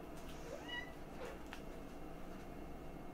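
A cat meows faintly a couple of times, thin and distant, over a steady background hiss in a kitchen while food is offered to it.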